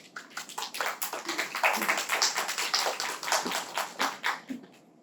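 Audience applause for a professor's remarks at a gender-equality lecture, a modest roomful of clapping that swells, holds steady and fades over several seconds, fairly close.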